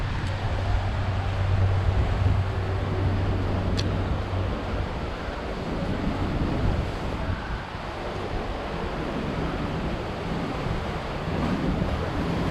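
Ocean waves wash continuously onto Repulse Bay Beach in Hong Kong, a broad rushing surf blended with steady wind buffeting the microphone, with no clear talk over it.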